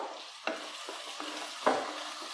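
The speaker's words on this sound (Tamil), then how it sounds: "வெங்காயம் நல்லா டார்க் ப்ரௌன் கலராக வரணும், அந்த அளவுக்கு நல்லா வதக்கி எடுத்துக்கோங்க" Onions sauté in a pan with a couple of bay leaves until dark brown, a soft low sizzle with three scattered spatula scrapes, quiet and close.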